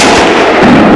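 A rifle shot fired during a deer hunt on bucks, a single loud, sharp blast with a rolling boom that fills the whole second, with no talking.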